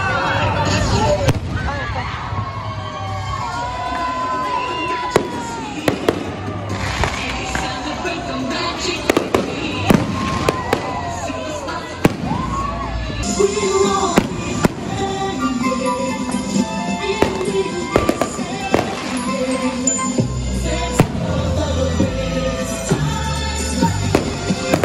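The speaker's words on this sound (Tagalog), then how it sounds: "tapos nag-start na yung fireworks or yung Sky Wizardry" Fireworks show at the Enchanted Kingdom theme park, with dense, continuous bursts, crackles and whistling rockets, loud and close, over a murmuring crowd and some talk.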